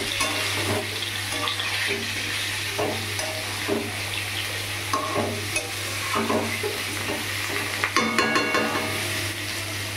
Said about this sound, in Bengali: মাংসটা একটু মাঝে মাঝে নাড়িয়ে দেখতে হবে যাতে তলায় লেগে না যায়